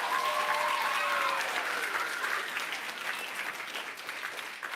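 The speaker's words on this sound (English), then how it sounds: "Round of applause for all these folks." An audience at a Kid Governor inauguration claps, a dense sustained round of applause that starts full and slowly thins over several seconds, heard alone without speech.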